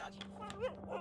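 Dogs in The Pale Beyond video game give a few short whimpering yips and whines across a second, near and moderately loud, with a person's voice talking alongside.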